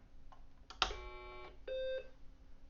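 A BBC Micro computer powering on: a quiet click, then a short high beep followed by a second steady tone, with faint hum underneath.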